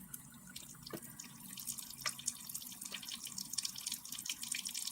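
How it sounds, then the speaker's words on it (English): Tap water runs and splashes faintly as eco-printed fabric is rinsed in a sink, a steady soft trickle with scattered drips and small splashes throughout, no voices. "I'm going to rinse these real quick now that I took all of those out."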